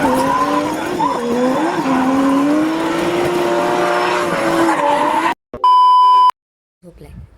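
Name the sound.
car accelerating at full speed and handbrake drifting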